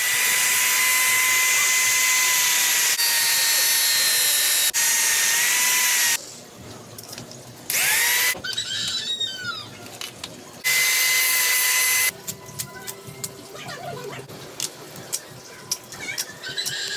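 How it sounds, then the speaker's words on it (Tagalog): Angle grinder cutting a DIY spoiler for a KYT TT Course helmet, a loud steady high-pitched whine for about six seconds, then shorter bursts of cutting with brief pauses and scraping between them. "Or grinder yung gagamitin natin sa pagputol nito."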